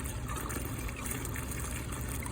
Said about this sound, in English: So I drain this whole thing here.